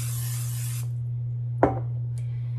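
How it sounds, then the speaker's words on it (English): Cooking spray hisses from a can into a 9x13 baking pan in one close, steady burst lasting under a second, followed by a soft clunk and a faint tap over a low background hum. "So now I'm going to spray my 9x13 pan with cooking spray."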